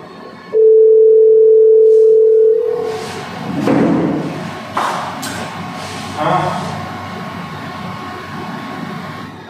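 An outgoing phone call goes unanswered, with a single steady ringing tone lasting about two seconds, followed by several people talking.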